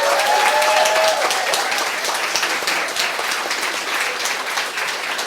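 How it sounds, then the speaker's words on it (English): An audience gives a round of applause, a loud, dense wash of clapping that starts at full strength and tapers slightly as it continues for several seconds. "Can we give the guys a round of applause?"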